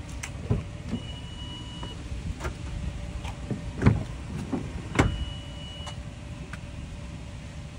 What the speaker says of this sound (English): Power sliding rear window, which is located over there.